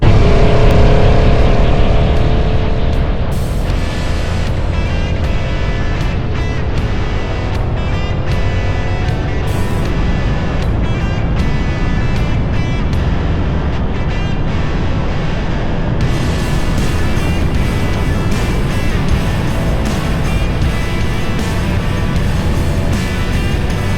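An adventure motorbike engine is revved hard on a ride through hilly countryside, a loud continuous roar with wind noise and rising, straining pitch, close and steady throughout with no talk.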